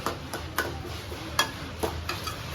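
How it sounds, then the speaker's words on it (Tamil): A spoon stirs and breaks up food in a pot, making rhythmic scraping strokes at a steady pace, close and clear, with no talking. "இப்படி கொத்தி விட்டுருங்க"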